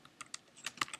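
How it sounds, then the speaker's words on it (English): Quick clicks on a computer keyboard, several distinct keystrokes in a brief, uneven burst, close and fairly quiet with no voices. "I'm going to type in"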